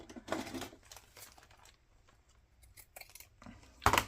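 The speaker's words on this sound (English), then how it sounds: "I'm going to cut it now" Scissors cut through a paper junk mail envelope in a few close, crisp snips, with quiet pauses in between and one sharp, loud snip near the end.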